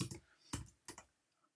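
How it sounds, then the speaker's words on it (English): Several quick keystrokes on a computer keyboard while typing a short message, heard as three brief clustered bursts of clicks, close and fairly quiet, with no talking. "I'm going to just type this out real quick"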